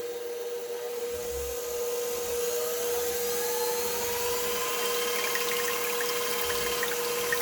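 An electric stand mixer runs on its slow setting, churning cream into homemade butter with a steady, even motor whir and a faint tonal hum, continuous and unchanging, with no voices.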